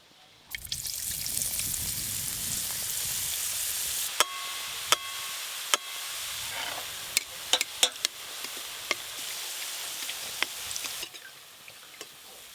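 Boondi droplets fry in oil over low heat, a bright steady sizzle that starts abruptly and runs for about ten seconds, punctuated by sharp metallic taps and clinks of a ladle, then cuts off.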